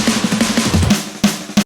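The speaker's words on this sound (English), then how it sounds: "But when you add those echo things, it makes it sound much more lively." FL Studio drum loop with snares treated by an echo effect, busy quick-paced electronic beat with repeating snare hits that trail off, ending in two sharp louder strikes, no voices.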